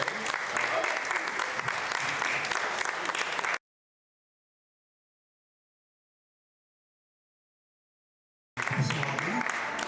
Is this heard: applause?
yes